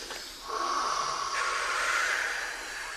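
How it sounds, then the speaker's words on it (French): Several mothers in labour draw a long, deep, hissing breath together, the airy rush swelling and holding for a couple of seconds in a quiet room. "vous allez essayer de prendre une profonde respiration"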